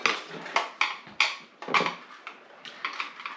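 Possum pie filling with vanilla flavoring being mixed in a bowl, a run of sharp utensil scrapes and clinks in an uneven rhythm, close and moderately loud, with no talking.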